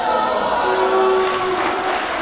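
Wrestling crowd at a Reality Of Wrestling women's match cheering and applauding steadily after a near-fall kickout, a dense wash of clapping and excited voices throughout.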